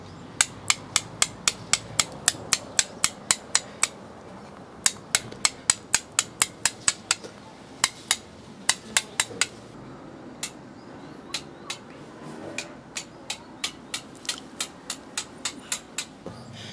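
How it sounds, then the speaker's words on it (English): A flat chisel, struck with a mallet or hammer, smooths a carving with dozens of sharp, close taps in quick, uneven runs and short pauses. "after using the flat chisel, which have made these smooth lines"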